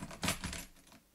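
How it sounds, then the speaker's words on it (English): Metal keys jangle briefly as they are moved near a PC power supply, a few quick bright clinks, close and quiet, without talk. "As I move my keys."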